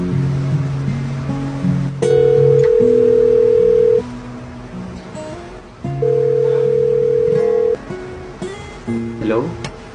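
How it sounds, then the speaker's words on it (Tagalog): A telephone call rings out in two long, loud tone bursts, each about two seconds, separated by quiet gaps, with faint background sounds between them. "naiisip ko na subukan ko ang tawagan si Jen"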